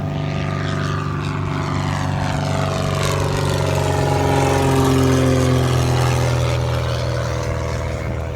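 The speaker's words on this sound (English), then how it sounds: "There goes an airplane." A small Piper propeller plane drones steadily overhead, its engine hum loud and continuous, gently rising and falling in pitch as it passes.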